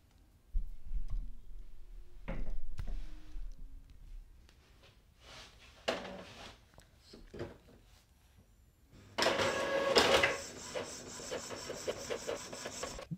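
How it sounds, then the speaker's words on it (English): An Epson EcoTank ET-2400 inkjet printer prints a page, giving scattered clicks and mechanical whirring before a louder sustained feed-and-print burst near the end, close by in a quiet room. "And now we're gonna press the print button."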